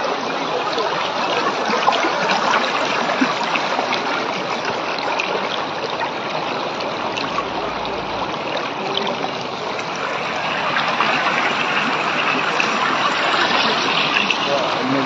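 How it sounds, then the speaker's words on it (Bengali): Floodwater pours into Matijuri market in Hailakandi, a loud, continuous broadband rush of fast-moving water that stays steady throughout with no pauses. "মানে কত স্পিডে জল ঢুকে আপনারা দেখাই এই দেখুন"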